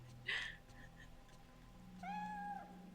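A cat meows twice in the video game Fatal Frame III, first a short sharp cry, then a longer, clear drawn-out meow a moment later, heard close over a low ambient hum.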